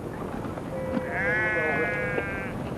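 A sheep trapped during a cave rescue gives one long quavering bleat against a hissing background, moderately close and alone without talk.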